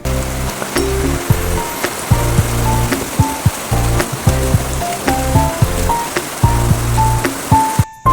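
Sudden rain falls in a steady, loud wash, with music playing over it throughout.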